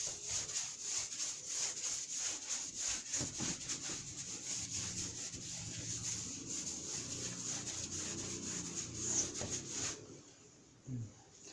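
A board eraser rubs back and forth across a writing board in steady, soft scrubbing strokes, faint and close, stopping near the end.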